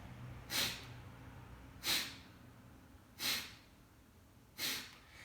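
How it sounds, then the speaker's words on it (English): Four forceful Kapalabhati yoga breath exhales, sharp nasal bursts spaced evenly about every 1.3 seconds, close and clear against quiet room tone. "Forceful lion's breath exhale."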